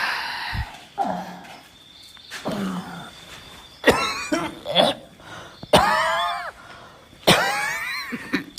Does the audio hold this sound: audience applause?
no